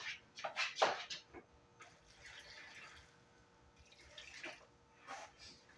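Water poured by eye into a leopard tortoise's food dish indoors, giving a few short splashing and trickling bursts with quieter gaps between them and no talking over it.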